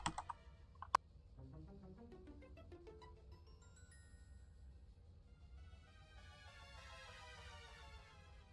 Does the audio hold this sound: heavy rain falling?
no